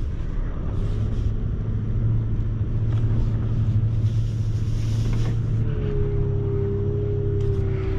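A garbage truck grinds through mud at a landfill, its engine a steady, loud, close rumble for the whole stretch, with a droning tone rising partway through as it works hard.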